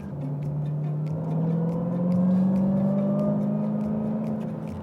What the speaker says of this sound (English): I'm doing 60 miles an hour and I just spun the rear wheels.